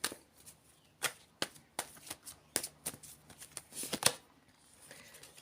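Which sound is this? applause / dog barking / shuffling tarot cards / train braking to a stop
shuffling tarot cards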